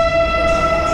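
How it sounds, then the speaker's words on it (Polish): A train pulls away from a Polish station, marked by a loud, steady tonal horn or whistle holding a pitch over low rumbling rail noise for a brief moment. "Pociąg już pojechał."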